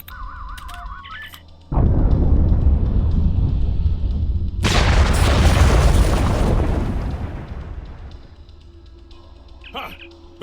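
A massive explosion in Star Trek Online erupts with a sudden loud boom and a long, roaring rumble, swelling again midway before slowly fading. Electronic game tones sound before and after it.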